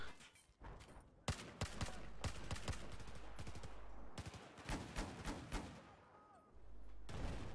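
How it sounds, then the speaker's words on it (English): Machine gun firing in a helicopter shooting game, rapid bursts of loud gunfire in several volleys separated by short pauses, with some fainter gunshots mixed in. "I love this machine gun"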